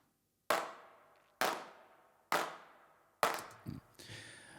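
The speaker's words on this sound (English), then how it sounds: "So here are the claps." Programmed hand claps from a Robotic Bean hand clap studio in a Christmas song mix: four sharp, evenly spaced claps with short decaying tails, heard alone and close, the last one overlapping a brief burst of other sound.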